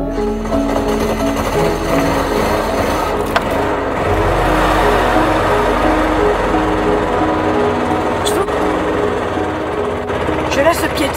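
A hard-starting engine idling in neutral with an odd noise, a steady close rattling rumble with faint ticking running throughout while a person talks over it.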